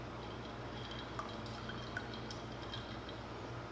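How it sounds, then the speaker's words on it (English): Toasted marshmallow creamer trickles into a cup of coffee as a soft, steady filling sound, with a few small drips near the middle. Quiet and close, with no speech. "then I add in my toasted marshmallow creamer"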